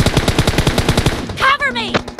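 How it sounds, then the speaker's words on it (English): Rapid automatic gunfire from a first-person shooter team deathmatch, loud, close bursts of repeated shots in a steady rhythm, followed by brief synthetic game sound effects. "Why are they shooting?"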